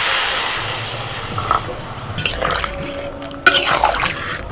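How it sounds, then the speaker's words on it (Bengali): Water poured into a pan of potato curry with softened tomato, a steady liquid splash and trickle building over a few seconds, with a couple of louder bursts near the end. "এবার দিয়ে দিচ্ছি জল।"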